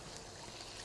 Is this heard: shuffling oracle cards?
no